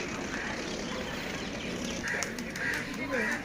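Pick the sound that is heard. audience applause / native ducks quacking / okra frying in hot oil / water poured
native ducks quacking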